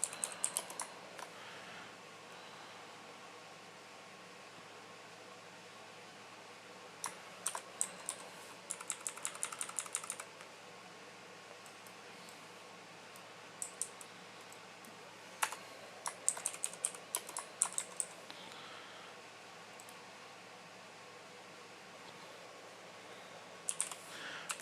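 Typing on a computer keyboard while creating an Amazon product listing, heard as faint scattered bursts of quick clicks separated by quiet pauses, with no talking.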